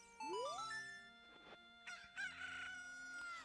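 A Cucco from Zelda: Ocarina of Time crows once, a rising cock-a-doodle-doo in a soft, clean game sound, followed by a chime-like jingle.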